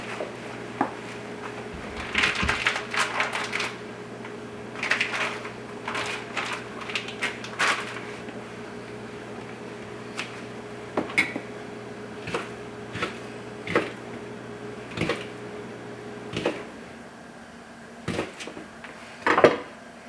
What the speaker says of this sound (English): I'm cutting them up in about 1/4 inch slices